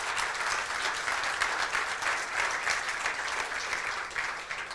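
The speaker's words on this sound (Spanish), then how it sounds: "un aplauso para Chile" Steady, full applause from a company audience at a Cinépolis Chile gathering, sustained clapping at even loudness throughout with no voices on top.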